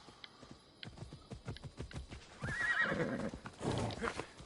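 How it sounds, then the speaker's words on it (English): A horse in the video game Assassin's Creed Odyssey whinnies loudly and close, following a run of steady clip-clop hoofbeats, with no talk over it. "So I'll just grab my horse."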